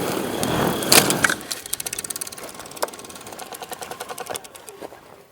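A massive 100kg-lifting drone runs its big motors and propellers at low throttle, giving a fast, even mechanical whir that sounds like rapid ticking, with a few louder knocks at the start and the whole sound fading.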